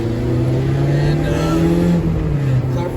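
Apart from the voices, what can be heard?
Honda Civic with K20Z3 swap driving on new tires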